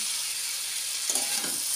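Vegetables fry in a pan with a steady, bright sizzle that swells briefly near the end as they are stirred.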